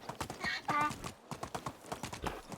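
Donkey hooves clip-clopping while riding in the video game Medieval Dynasty, a quick, steady run of close hoof beats with a short whinny early on.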